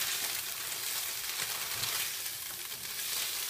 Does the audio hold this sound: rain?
no